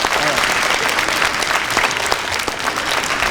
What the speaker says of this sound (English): So can we just give a quick round of applause to Mr.